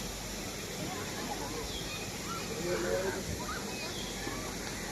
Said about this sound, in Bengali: ঝর্নার জন্য সাউন্ডটা ক্লিয়ার করা যায় না একটু না শস শব্দ হবে